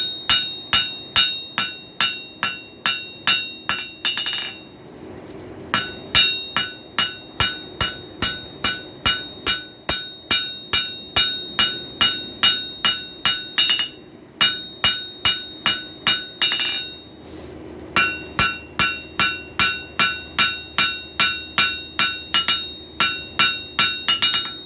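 A 2-pound ball peen hammer forges a wrench on an old anvil with a worn edge, delivering long runs of regular, ringing metallic strikes broken by a few short pauses, loud and close with no voices.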